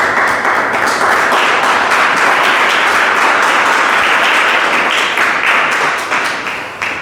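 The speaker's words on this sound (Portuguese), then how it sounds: "glorifique o Senhor com as palmas" A church congregation applauding during a service, loud dense clapping sustained throughout and tapering slightly at the end, no talk.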